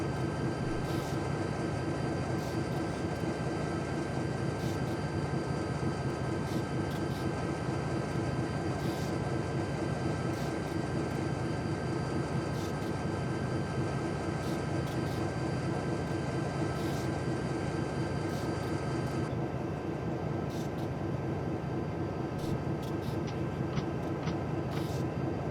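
A WP GP20 diesel locomotive runs on Donner Pass in Train Simulator, a steady continuous engine drone and rolling rumble with a faint high tone, loud and unbroken throughout.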